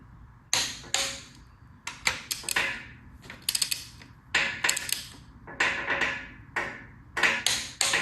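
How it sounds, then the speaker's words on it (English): Ratcheting torque wrench tightening bolts on a Ford FE engine on a creaky engine stand, bursts of loud clicking separated by short pauses. "We'll torque these per Jay's specs."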